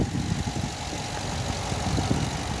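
A 2019 Ram 2500 Bighorn 4x4 pickup with the 6.4 Hemi V8 idles with its hood open, giving a steady, low, even rumble close by, heard alone with no voices.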